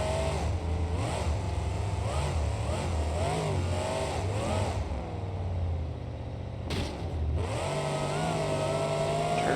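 An Air Force Afterburner monster truck in a BeamNG driving game roars with a loud, continuous engine drone that rises and falls as it revs, with a brief dip and surge near the end.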